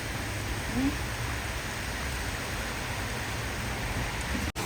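Heavy rain pours down in a steady, even hiss that fills the whole scene at a moderate level, with no voices and only a brief dropout at the very end.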